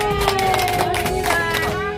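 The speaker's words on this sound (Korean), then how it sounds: "박수!" Members of a gardening association gathered at a rooftop garden in central Seoul clap together, a brief burst of close, crackling applause mixed with murmuring voices.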